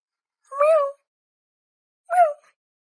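A cat meows twice, close and clear, with the two calls about a second and a half apart and silence between them.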